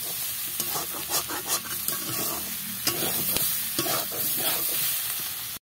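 Fried pointed gourd and potatoes are stir-fried together in a pan, with a steady sizzle and repeated scraping strokes of a spatula, close and clear with no talk.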